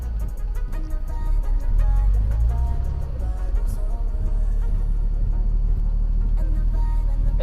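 A restored Mercedes car is driving with its engine running rough, giving a loud, low continuous rumble with a rising throaty drone and faint ticking.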